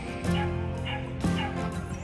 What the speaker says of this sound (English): He saw us and he's barking.